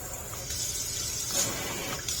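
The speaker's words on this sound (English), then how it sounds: "So you can have it on a regular stream or a shower." A FROPO high-arc stainless steel kitchen faucet runs in shower spray mode, giving a steady soft hiss of water spraying into a sink with slight shifts in tone as the flow changes, close and moderately quiet.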